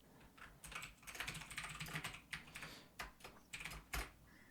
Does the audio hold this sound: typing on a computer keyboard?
yes